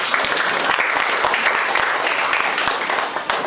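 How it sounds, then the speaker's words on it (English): Applause from a classroom debate audience greeting a judge, a steady wash of many hands clapping close by that fills the whole moment evenly, with some talk mixed in. "Round of applause, please."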